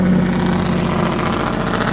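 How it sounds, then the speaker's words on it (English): A loud truck passes by outdoors, a heavy engine rumble that stays strong and steady throughout. "That's a really loud truck, wasn't it?"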